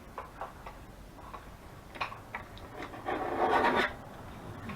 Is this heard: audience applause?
no